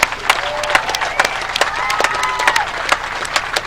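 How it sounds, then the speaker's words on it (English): Hall of Fame ceremony audience at a college football game applauding an inductee, with loud sharp individual claps close by over a broader crowd and scattered cheering voices. "Big round of applause for Jackson Vroman"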